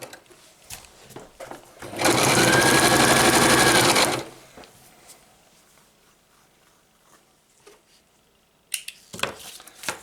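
A sewing machine stitches a fold down on a homemade fabric stuff sack, running in one steady loud burst of about two seconds amid quiet handling of cloth, with a short clatter near the end.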